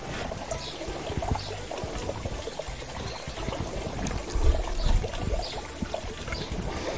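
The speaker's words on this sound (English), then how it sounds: "this is the part where our coconut milk comes in" Coconut milk pours into a pot of cassava and prawns for Brazilian bobó de camarão, a continuous close trickling, gurgling flow with soft stirring knocks, swelling slightly toward the middle.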